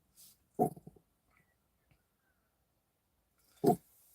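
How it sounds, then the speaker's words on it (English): A dog gives two short, low growls close by, one early and one near the end, with near silence between them. "What are you growling about, girl?"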